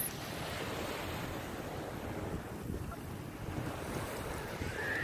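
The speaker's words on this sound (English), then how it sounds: "at the beautiful Dane Street Beach in Beverly, Massachusetts." Waves and wind at Dane Street Beach in Beverly, Massachusetts, a steady wash of surf mixed with continuous wind buffeting the microphone, with no voices.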